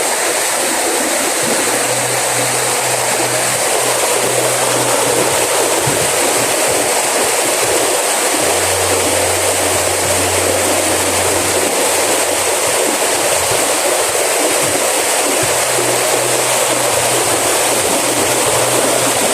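A mountain river rushes loudly and continuously as a dense, unbroken wash of water noise, with faint low rumbles rising and fading underneath.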